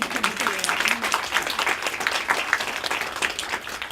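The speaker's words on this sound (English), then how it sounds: "So another round of applause." A small evening gathering applauds student speakers with scattered, uneven clapping. A voice is faintly audible underneath early on.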